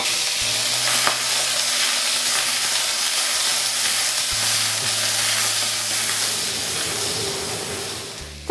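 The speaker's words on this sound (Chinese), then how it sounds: "锅烧热后，我们把虾头放进爆香" Shrimp heads fry in hot oil left from pan-frying yellow croaker in a wok, giving a loud, continuous sizzle and hiss with occasional stirring scrapes, close up and with no talking.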